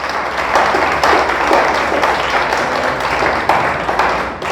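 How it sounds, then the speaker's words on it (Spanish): A church congregation claps loudly and continuously for God during a Spanish-language sermon, a dense sustained wash of many hands with occasional sharper claps, no speech over it. "denle fuerte el aplauso, déselo fuertes para Dios."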